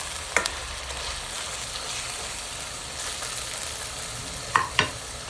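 Squid balls tossed into a simmering pot of Kapampangan chicken lomi, a soft steady sizzle with two brief clinks of a utensil stirring, one near the start and a pair near the end.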